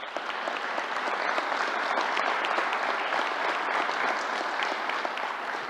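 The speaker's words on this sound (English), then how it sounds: "Let's give the County Executive a round of applause." Audience at a news conference applauding, with steady, dense clapping sustained throughout, loud and close.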